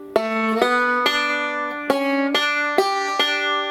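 Bluegrass banjo picks measure three of Wabash Cannonball, a short run of bright plucked notes with even rhythm, close and clean with no talking.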